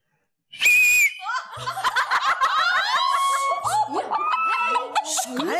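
A single short, high mouth whistle rings out, followed by laughter and chatter.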